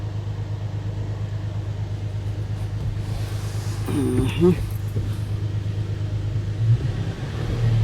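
A car engine with its throttle stuck open holds a steady, droning rumble at about 2,000 RPM throughout, while a person talks over it.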